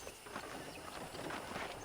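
Horse hooves clip-clop at a steady trotting rhythm in the Red Dead Redemption video game on PC, a ranch tour on horseback, heard fairly close and moderately quiet with no talk.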